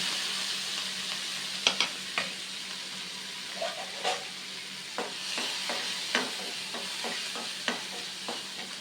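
Five green chillies frying in a home kitchen pan, a low steady sizzle broken by sharp pops and spatula scrapes as they are stirred, fairly quiet and close with no voices.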